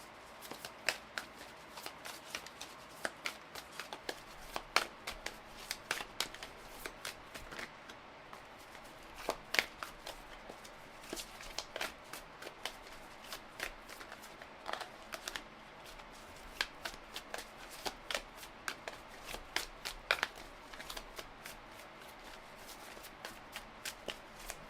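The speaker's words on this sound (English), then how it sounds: "I'm going to move these cards to the side." Tarot cards are handled and shuffled up close, a steady run of crisp riffles, flicks and soft slaps repeating through the whole stretch with no voices.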